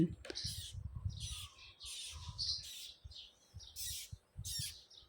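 A seven-day-old baby parrot chick squawks in short, repeated bursts before syringe feeding, the calls close and fairly soft with faint low handling noises between them.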